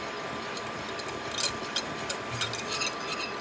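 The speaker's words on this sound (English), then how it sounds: "It's got some nice big boiling bubbles here." Thick cornstarch pudding mixture boils in a pot on the stove, a steady bubbling hiss broken by soft, irregular pops and gloopy bursts of large bubbles close by, with no talking.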